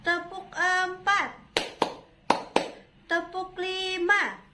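Children clap in a counted classroom rhythm, sharp bursts of claps in growing groups trading off with a woman's spoken counting.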